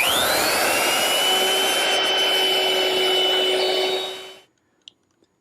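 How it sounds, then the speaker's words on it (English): A router fitted with a 1/4 inch round-over bit eases the wooden edges of garden gate parts, giving a loud, steady high-pitched whine for about four seconds before spinning down to silence, with a couple of faint clicks after. "To ease the edges of all the elements I've made so far, I'm turning to my router, which is equipped with a 1/4 inch rounding over bit"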